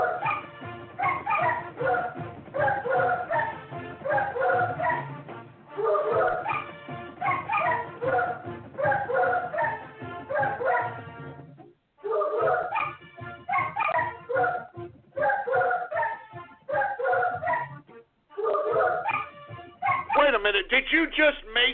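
A dog's barks and yips are cut into a rhythmic radio theme jingle. The short bark bursts repeat in steady musical phrases for about twenty seconds, loud and close, with a brief gap near the middle.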